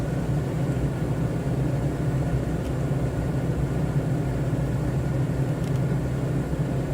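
A simulated airplane engine drones in a steady low rumble throughout a takeoff climb in a flight simulator game, with no talk over it.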